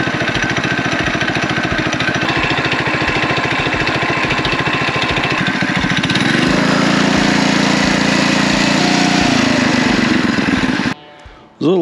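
Coleman BT200X mini bike engine running with richer jets, a loud close buzzing putter that rises to a higher full-throttle pitch midway, then cuts off abruptly near the end.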